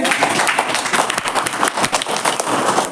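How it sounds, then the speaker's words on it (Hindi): A classroom full of children clapping together, dense and lively, a burst of fast uneven claps lasting a few seconds. "ताली इसके लिए।"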